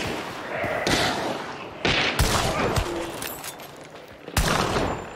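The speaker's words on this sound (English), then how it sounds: "another one in the courtyard between the buildings shooting at me, though" Gunfire in the video game Hunt: Showdown, with bursts of loud shots in close succession and a couple of sharp reports a few seconds apart, heavy and booming.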